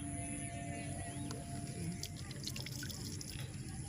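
Water drips and splashes steadily while fish are washed in a village, with a constant wet background wash and scattered small drops, close by and fairly quiet.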